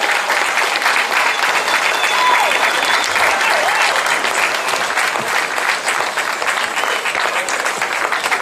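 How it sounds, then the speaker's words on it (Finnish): A crowd at a Miss Twang & Twist event in Nastola claps in sustained, dense applause, loud and steady from start to finish, with faint cheers mixed in. "Anna taas Riitalle ihan mahtavat aplodit"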